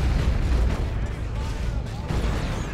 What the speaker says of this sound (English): And Cyclone Missile Launcher is up.